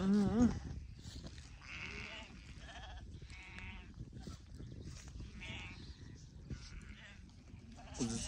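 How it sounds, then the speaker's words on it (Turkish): Sheep and lambs bleat repeatedly on a farm in the early morning before sunrise, with several overlapping calls at moderate distance and faint rustling between them. "Kuzusu da geldi, kuzusu."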